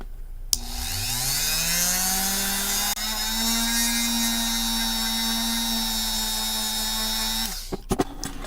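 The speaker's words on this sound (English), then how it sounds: "I'm spinning a drill bit in there for an extended period of time" Power drill spinning a bit into cast resin for a figure build, the motor spinning up sharply and holding a steady high whine for several seconds with a slight pitch shift midway, then cutting off with a few clicks and knocks.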